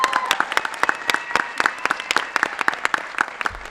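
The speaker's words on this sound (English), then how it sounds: "Another big round of applause." A school committee meeting audience applauds with sharp, distinct hand claps that keep a lively rhythm throughout, fairly close and clear.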